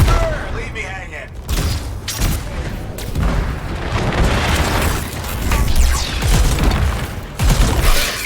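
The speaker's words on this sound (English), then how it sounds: "Shotgun to the face." Shotgun blast in the video game Anthem amid dense combat, with loud booming bursts and rapid fire layered over continuous game sound and voices.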